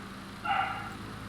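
A single short dog bark sounds in the background of an online call, moderately faint over a steady low hum.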